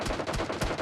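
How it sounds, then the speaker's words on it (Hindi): Rapid gunfire crackles around a squad in a PUBG Mobile tournament final, a dense, loud run of overlapping shots packed into under a second with no talk. "आप देखें इस वक्त फायर कितने हो रहे हैं उनके चारों तरफ से"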